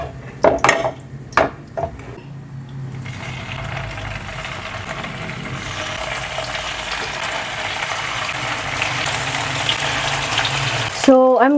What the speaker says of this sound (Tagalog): Ayan, mainit na yung kawali. Ilagay na natin yung konting mantika.